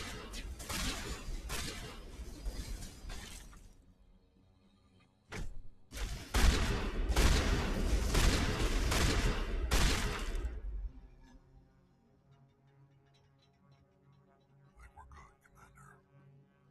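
Rapid gunfire from the video game Mass Effect comes in two dense bursts with a lone sharp shot between them, then fades to near silence.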